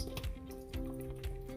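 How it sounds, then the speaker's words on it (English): Marinating sauce poured into a bag holding raw salmon, a few soft squishy liquid glugs and drips close by, with a faint steady hum underneath. "Okay, so let's pour the sauce,"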